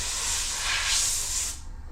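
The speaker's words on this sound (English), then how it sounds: "Now I like to hit it with air again" Compressed air blasts crumbs out of an A2289 laptop during an LCD panel repair: one steady, loud hiss that holds for about a second and a half, then cuts off abruptly, leaving a quiet room.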